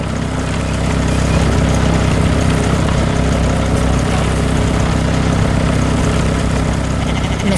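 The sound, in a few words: green farm machine working in a field, animation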